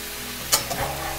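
Vegetables sizzle in a pot for a spiced vegetable biryani, a steady frying hiss broken by a sharp clatter of stirring and a few softer scrapes.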